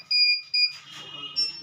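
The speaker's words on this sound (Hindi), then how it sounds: "अचानक से बीप करने लगता है। कुछ इस तरह का बीप करता है," Dahua DVR unit beeping on its own: two steady high-pitched electronic beeps, then a third after a short gap, with some background noise between them.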